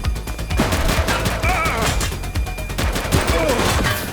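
Gunfire from a suspect in The Precinct police game: several sharp shots burst out in a dense, loud volley over constant game noise and radio chatter, with harsh impacts across the whole clip.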